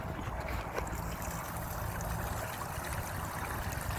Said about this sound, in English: Okay, so the pump is on.